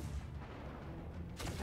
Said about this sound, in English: I want a second deck of cannons.